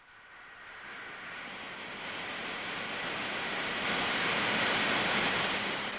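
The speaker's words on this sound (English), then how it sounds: "When the compressed air jet is turned on" A compressed air jet blowing through a nozzle gives a steady, broad rushing hiss that swells gradually louder and then holds, continuous and close with no talk.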